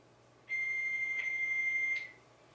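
A fax machine answers a phone line with a single steady high-pitched tone lasting about one and a half seconds, heard alone over faint line hiss.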